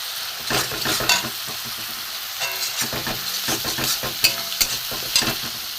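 Grated ginger sizzling in a pan for banana flower moong dal, a close crackling fry with repeated scraping stirs and clattering bursts against the pan.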